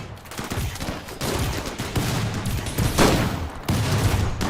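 Rapid gunfire from Gauss weapons during a siege battle in the video game RimWorld, a dense, continuous volley of overlapping shots at steady loudness with no talk.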